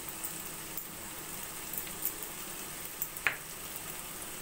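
Spices and ginger garlic paste frying in a pan for mutton curry, a steady soft sizzle with occasional small pops, close but fairly quiet, no voices.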